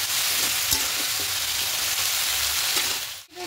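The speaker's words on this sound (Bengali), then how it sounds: "এবার সব কিছু একটু হালকা একটু ভেজে দেবো, বেশি ভাজা দরকার নেই" Chickpeas and Malabar spinach lightly frying in a pan, a close, even sizzle with a few soft stirring clinks, briefly cut off near the end.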